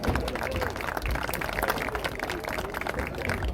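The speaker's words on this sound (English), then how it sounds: "Again, another round of applause for these two great companies." Crowd clapping at an outdoor football game ceremony, a faint scattered applause from stands mixed with background crowd noise and a bit of talk.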